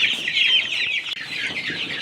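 Month-old chicks in a new coop chirp and cluck continuously in a dense, high-pitched chorus, close and fairly loud.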